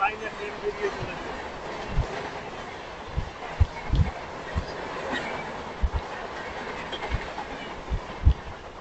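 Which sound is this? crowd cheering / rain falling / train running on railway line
train running on railway line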